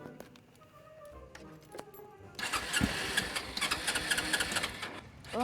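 A motorbike engine is started: quiet cranking and ticking at first, then the engine catches with a sudden burst and runs on in a busy, rattling idle, fairly close.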